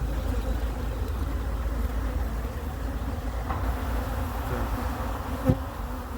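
Honeybees drone steadily at an open hive holding two colonies split by a plastic frame board, a dense continuous buzz that stays loud and even throughout with one brief knock near the end.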